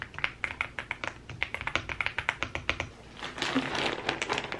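Mechanical keyboard being typed on, a close, steady run of deep, rounded key strokes at an even pace, followed by a quicker flurry of softer clacks and rustling near the end.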